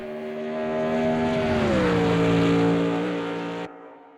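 A front-engine race car engine in a video game drones steadily with a harmonic whine that drops in pitch midway, loud and close, then cuts off abruptly near the end.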